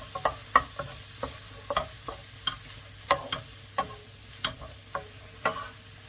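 Ginger, garlic and chilli sizzle quietly in a pan under repeated sharp scraping strokes of a utensil, a soft steady fry broken by rhythmic stirring clicks about every half second.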